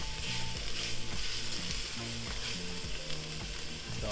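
Garlic sizzles steadily in a hot pan as a soup base, a close, crackling fry with rhythmic scraping and stirring strokes from a utensil over the hiss, no voices.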